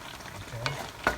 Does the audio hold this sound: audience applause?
no